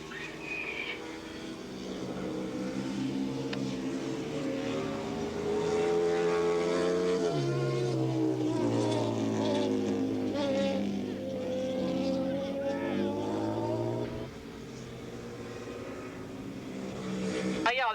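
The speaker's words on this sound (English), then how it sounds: "But right now, Steve Cordillo, bike number 2 on the Yamaha, now has the lead." 600cc modified production racing motorcycles, a Yamaha leading, howl steadily past at Willow Springs International Raceway, the engine drone rising and shifting pitch for the whole stretch while a race announcer talks over it.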